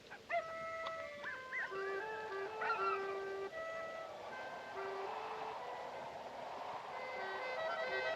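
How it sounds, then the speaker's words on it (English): Dogs bark and howl at night, their drawn-out wavering cries overlapping at a moderate distance before a steady, low background hiss takes over. "Dogs are noisy tonight."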